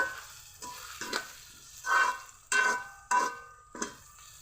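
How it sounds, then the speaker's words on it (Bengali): Vegetables stir-fried with a homemade noodle spice mix, heard as a series of short scraping, sizzling bursts from a spatula moving through the pan at a steady rhythm, close and fairly quiet, with no talking. "যে মশলাটা রেডি করেছিলাম এটা 2 চামচ দিয়ে দিব। এতে আর কোনো রকম কোনো মশলাই লাগবে না, ভালো করে কষিয়ে দিব"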